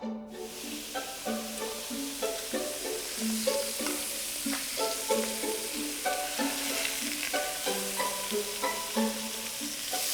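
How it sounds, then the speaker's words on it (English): Steady sizzling and frying as pheasant browns in a hot pan, loud and continuous, with a melodic tune playing over it throughout. "Expect to sizzle, because I've got this pan hot."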